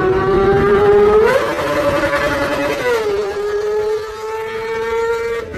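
A Kawasaki ZX-25R 250cc inline-four sport bike engine revs in a high, steady whine, rising in pitch twice and settling back, loud and close with a buzzy, layered tone and no voices.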